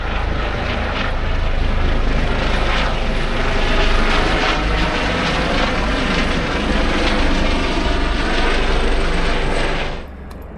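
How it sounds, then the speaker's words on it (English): A helicopter flies over mountain peaks near the tallest mountain in Wales, a loud, sustained rotor and engine roar that holds for about ten seconds before cutting off abruptly. "Can hear a helicopter."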